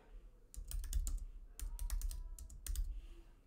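Someone types on a computer keyboard in two quick bursts of close, crisp keystrokes with a short pause between them, moderately quiet and with no talking.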